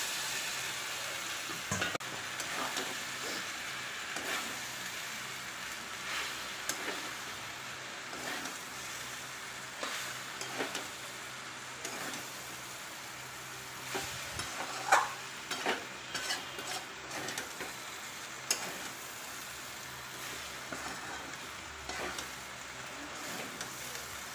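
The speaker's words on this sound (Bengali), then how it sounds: "দেখো আমার কষানো হচ্ছে, কষানোটা প্রায় হয়ে এসেছে" Fried jackfruit and potato being sautéed in a spiced prawn curry masala, a quiet continuous sizzle with scraping stirs and occasional clinks of a utensil against the pan, close by and without talk.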